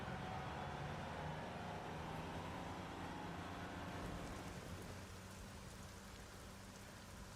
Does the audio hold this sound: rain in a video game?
yes